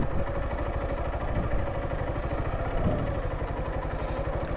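A motorcycle engine running steadily on a broken, rough road, a low continuous throb at moderate distance with no talk over it.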